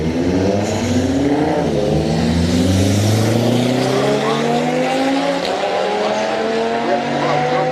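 A Mazdaspeed3 launches hard down a night street drag strip at Orlando Speed World, engine revving and climbing through gears in a loud continuous roar with tire squeal, a crowd murmur underneath.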